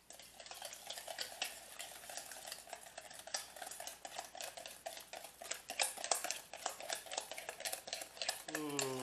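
A whisk beats briskly through a thick sauce with salt and black pepper in a bowl, making a fast, rhythmic ticking and scraping that runs steadily throughout, quiet and close.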